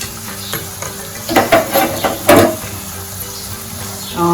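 Cabbage and potato curry being stirred in a pan, giving a few soft scraping and sizzling bursts that stand alone with no talk.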